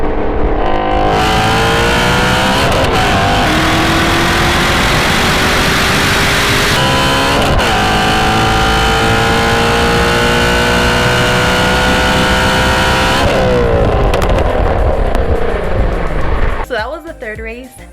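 A 2019 Camaro ZL1 1LE and a 2018 Shelby GT350 roll race side by side, engines roaring loud and close with rising pitch through the gears, a shift break midway, then fading out at the end; a voice talks over the engines.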